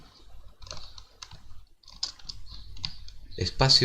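The space bar of a computer keyboard is pressed while working in Krita, producing a series of close, crisp clicks and taps with brief gaps and a louder burst at the end.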